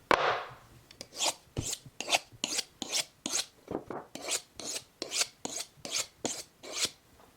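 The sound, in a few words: sharpening a 6-inch boning knife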